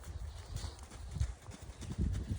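A pony walks at a steady pace, its hooves thudding softly and rhythmically on soft ground, faint and close with a quiet outdoor background.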